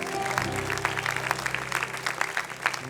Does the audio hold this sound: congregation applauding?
yes